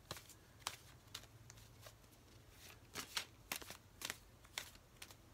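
A deck of cards shuffled up close in quiet surroundings, with repeated crisp riffling bursts in an uneven rhythm and short pauses between them.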